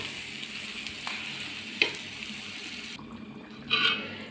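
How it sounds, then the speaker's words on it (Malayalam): Onion, tomato and capsicum masala frying for a dum biryani gravy, a steady close sizzle with a few sharp stirring clinks, fading briefly near the end before a bright scrape returns. "അപ്പോൾ അത് നല്ലോണം ഇങ്ങനെ മൊരിഞ്ഞ് പൊടികളും സവോള, തക്കാളി, ക്യാപ്സിക്കം എല്ലാം കൂടി നല്ലോണം ഒന്ന് ഉടഞ്ഞ് വരട്ടേന്ന് വിചാരിച്ചിട്ടുണ്ട്"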